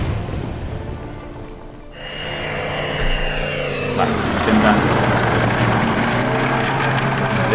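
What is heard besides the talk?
aircraft engines in video game Order of Battle: Panzerkrieg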